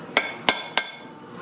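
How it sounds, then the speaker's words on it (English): A rubber or brass hammer gives three sharp, evenly spaced taps on a trailer wheel bearing, each ringing briefly with a light metallic tone. "Just put a rubber or brass hammer over it. Give it a tap."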